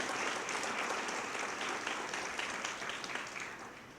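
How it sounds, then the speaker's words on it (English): Steady applause from a crowd at a community breakfast, a broad dense wash of many hands clapping that holds for several seconds before tapering slightly at the end. "Can we have a round of applause for that?"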